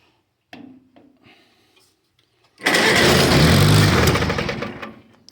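A 1953 Farmall Cub tractor engine catches after a few faint clicks and rattles, then runs loud and close in a rough, throbbing idle for about two seconds before fading slightly, with no talk.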